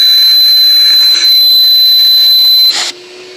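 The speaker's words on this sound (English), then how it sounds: "this is very, very quiet vacuum." A Metro Vac N Blow Pro 83BA vacuum runs with a loud, steady high-pitched whine and airy hiss close to the microphone, then the whine drops away near the end, leaving a lower hum.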